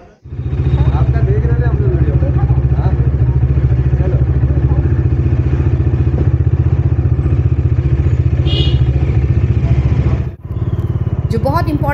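A motorcycle engine idling and pulling away, a loud steady close rumble with some rattle, briefly dipping near the end before picking up again.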